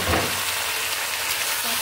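Raw green banana pieces go into hot oil in a wok and fry with a loud, steady hiss and crackle, close and alone, without any voices.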